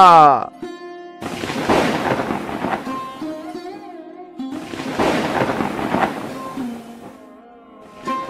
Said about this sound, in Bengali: এই যা, বৃষ্টি শুরু হয়ে গেল যে